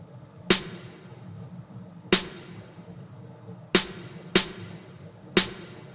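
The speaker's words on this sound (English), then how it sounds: "So the snare was what came out of the Basement Era" Snare drum from a Basement Era drum kit hits in a sparse pattern of five crisp, punchy strikes at uneven intervals, each with a short decaying tail over a quiet low background.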